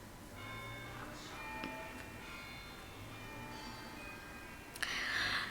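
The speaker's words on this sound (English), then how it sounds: "That jingle bell could be a sign if you can hear it." Faint jingle bells tinkle in the background, scattered light chimes over a constant low hum, ending in a brighter, slightly louder jingle near the end.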